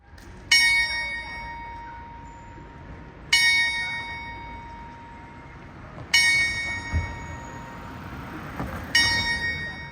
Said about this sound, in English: the Ischler Glockenspiel, a giant pocket watch with 12 brass bells